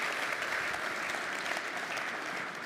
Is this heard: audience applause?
yes